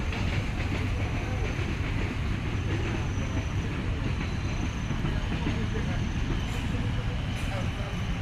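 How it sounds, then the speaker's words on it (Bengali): Steady low rumble of a passing train, continuous throughout, with people talking faintly over the noise. "কি ট্রেন যাচ্ছে নাকি"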